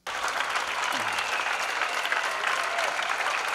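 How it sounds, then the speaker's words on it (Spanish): Steady applause from a crowd gathered in the Plaza del Casco in Sestao, a town square, with dense continuous clapping at even loudness throughout, close and unbroken, with faint voices mixed in. "Los aplausos de ayer fueron desde la Plaza del Casco de Sestao."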